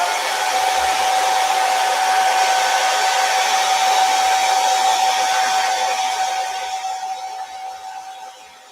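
A handheld hair dryer blows steadily at close range, drying papaya paste on a silk screen; a continuous whirring roar with a thin high whine that stays level, then slowly fades as it moves away or winds down near the end.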